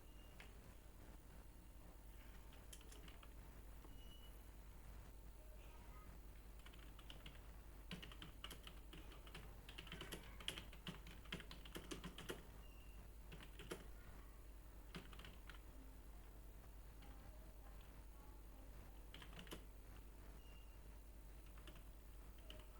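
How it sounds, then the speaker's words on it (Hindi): Random text typed on a computer keyboard into a desktop publishing program, a steady run of quiet key taps at close range over a faint background hum, with no talking. "अब रैंडमली हम कुछ भी यहाँ पे टाइप कर दे रहे हैं"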